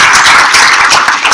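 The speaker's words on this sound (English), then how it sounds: "Give these guys a round of applause already." A lecture hall audience applauding the teaching assistants, a loud dense wash of many hands clapping close by, steady throughout without any talking.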